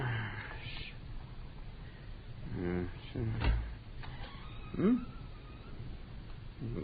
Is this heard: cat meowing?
yes